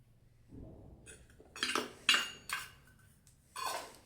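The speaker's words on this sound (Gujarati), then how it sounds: "ચોખાનો લોટ એડ કરી અને બરાબર મિક્સ કરી લેશું." A spoon mixes rice flour into idli premix in a bowl, giving a few distinct metallic clinks and scrapes in uneven bursts, close and fairly quiet, with no talking.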